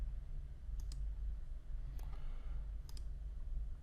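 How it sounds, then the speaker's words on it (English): A computer mouse clicks several times at a desk, sharp little clicks in quick pairs separated by short pauses over a low steady room hum. "So I click delete."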